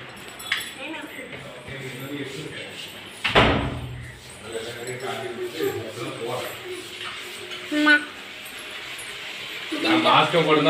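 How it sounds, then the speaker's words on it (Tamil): A home door opens with one sharp knock-like thud, surrounded by household clatter and people talking nearby. "கதவை நாங்க திறந்தாச்சு."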